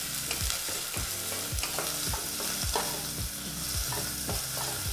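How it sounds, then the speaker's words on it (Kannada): Finely chopped onion fries in hot sunflower oil over a medium flame, a dense, loud, close sizzle punctuated by steady spatula strokes roughly twice a second, with no speech. "ಬಿಸಿಯಾದಂಥ ಎಣ್ಣೆಗೆ ಈ ರೀತಿ ಭಾಳ ಚಿಕ್ಕದಾಗಿ ಕಟ್ ಮಾಡಿದಂಥ 1 ಈರುಳ್ಳಿನ ಹಾಕಿ"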